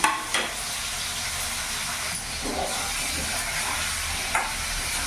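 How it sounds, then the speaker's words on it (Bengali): Whole okra sizzling as it frys in hot oil in a pan over a high gas flame, a steady broad hiss with a few brief bursts, close and alone. "এটা আমি এখন তেলের মধ্যে ফ্রাই করে নেব। তেল গরম হয়ে গেছে, এখানে আমি পুরো ভেন্ডিটা দিয়ে দিলাম।"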